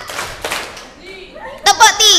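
Children in an Indonesian girls' Islamic study class clap in a patterned rhythm game, a teacher's voice speaking first, then a burst of several sharp, close claps near the end.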